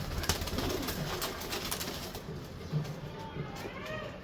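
Nil Dumba and Teddy pigeons cooing in a loft, soft low coos repeating amid rustling and fluttering, with a voice talking faintly in the background.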